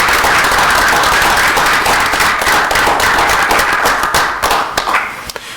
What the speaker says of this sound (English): we'd like to have a round of applause and thank you so much for your service over these years